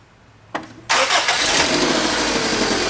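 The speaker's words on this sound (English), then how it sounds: "Starts up, runs great." A Honda Civic D17 engine cranks briefly, catches, and settles into a steady, loud idle close by, with a slight exhaust leak.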